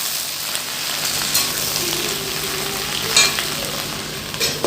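Chopped okra frying in hot mustard oil, a dense, close crackling sizzle with a few brief stirring scrapes rising above it, and no voices.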